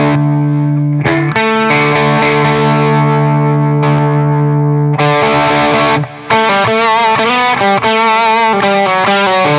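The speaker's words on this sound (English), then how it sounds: "So you can say that the treble boost has a bit more distortion in this case." An electric guitar plays through a gritty, distorted Chandler GAV19T treble booster pedal, sustained chords giving way to choppier strummed notes, loud and bright.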